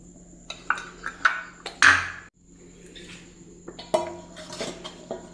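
Watermelon and pineapple pieces stirred with sugar in a bowl: a string of light clinks and taps of a spoon against the vessel, close and sparse, with one louder scrape in the middle and quiet gaps between strokes.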